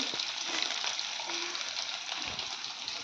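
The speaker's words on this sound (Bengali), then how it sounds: "পনিরটা রেখে দিলাম খুব লাল করে ভাজবো না" Paneer pieces, seasoned with a pinch of salt and turmeric, fry gently in a pan. A steady, close broadband sizzle runs unbroken, with faint stirring shifts and no voices.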